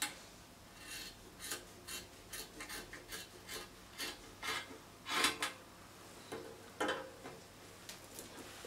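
Scissors cut out fabric for a kaftan top in a series of short, crisp rasping snips, some in quick pairs, close by against a quiet background.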